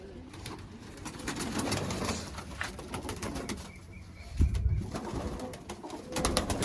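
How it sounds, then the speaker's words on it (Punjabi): Continuous cooing from several pigeons close by, with occasional wing flutters and a brief louder rustle partway through. "ਇਹ ਸਾਰੀਆਂ ਕਬੂਤਰੀਆਂ ਆ ਜਿਹੜੀਆਂ ਅੰਦਰ ਦੀ ਸਾਈਡ ਆ"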